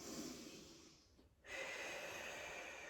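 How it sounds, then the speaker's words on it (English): Breathing during a pilates stretch with the hips pushed up into the air: a long audible inhale, a brief pause, then a steady exhale, close and fairly quiet with no talking. "Breathe in and out."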